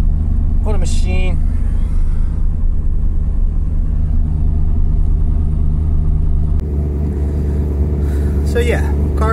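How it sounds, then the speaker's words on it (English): A car on E85 fuel with a Holley ECU idles after a cold start, its deep steady rumble close and loud, settling to a slightly lower note partway through while a person speaks briefly over it. "So yeah, car's running."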